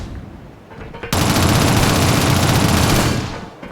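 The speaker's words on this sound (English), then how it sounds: "To eliminate a body, shoot it until it is destroyed." Sustained automatic gunfire in the 2007 game Shadowrun as shots pour into an enemy body during a tutorial, a loud, continuous burst of about two seconds that starts abruptly after a quieter lead-in.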